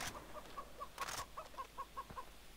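A chicken in the game Far Cry 3 gives a run of soft, evenly spaced clucks with a brief flutter of wings, quiet and close against a faint outdoor hush.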